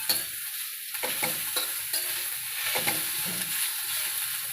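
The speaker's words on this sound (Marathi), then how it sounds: "कांदा बरोबर हे खडे मसाले टाकून द्या." Onion and whole spices fry in a pan, a close steady sizzle with repeated scraping stirs of a spoon, and no voices.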